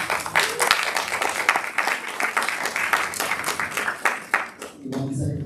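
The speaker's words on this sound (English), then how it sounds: "Give them a round of applause." Applause from the audience at a Boston City Council at-large candidate forum: a dense burst of many hands clapping that fills most of the moment, then cuts off as a voice starts speaking near the end.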